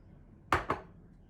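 An egg dumped into a bowl of boxed brownie mix lands as two quick soft knocks about 0.2 s apart, close and fairly quiet, with near silence around them.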